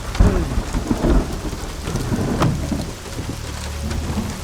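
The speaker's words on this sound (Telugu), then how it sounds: "ప్రసాద్ అన్నా, ఏందినా ఇంతలా వాన్లో ఈ రాత్రి పూట?" Heavy rain pours at night with deep rumbles of thunder rolling in and out, a dense, continuous downpour hiss under the low booms, with no one speaking.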